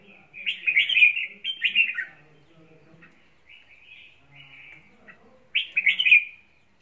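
Small birds chirp in bright, quick bursts, two close trills early, then softer calls and another loud burst near the end, with faint low voices in the background.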